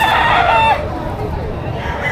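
A rooster crows loudly and close by at a live chicken market in Padre Garcia, Batangas, one long call that breaks off, followed by softer market chatter and background noise.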